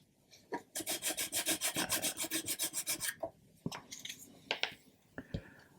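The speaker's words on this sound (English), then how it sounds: "So what we'll do is we'll just give that a little sand." Rapid rhythmic rasping as a hole in a wooden part of an Amati 1/80 Endeavour ship model is sanded, about a dozen quick close strokes in a run, then a few scattered scrapes and taps.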